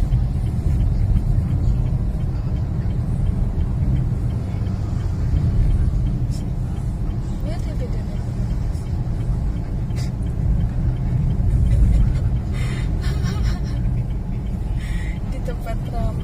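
An automatic Honda Brio drives along, with a steady low engine and road rumble running throughout, occasional faint clicks and light traffic noise, and a person talking over it inside the car.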